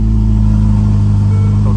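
A Ferrari F8 Spider engine runs loud and close with a steady low idle drone, holding even throughout with a slight rise near the end.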